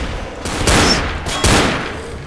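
Gunfire in Left 4 Dead cracks out in two loud, close bursts about a second apart, each a sharp broadband blast with a booming low tail, with no talk over it.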